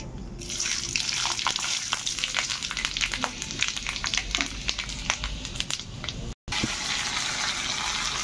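Panch phoron, the five-spice seed mix, frying in hot oil: a loud, steady sizzle full of sharp crackles and pops, cut by a brief gap near the end, with no talking.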